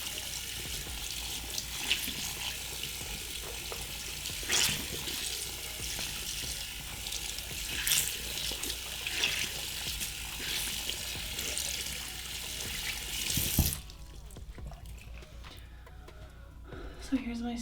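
Tap water runs into a sink while a makeup sponge is rinsed and squeezed out, a continuous splashing stream under a speaking voice, then the flow stops and quieter dripping and handling follow.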